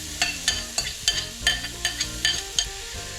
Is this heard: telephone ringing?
no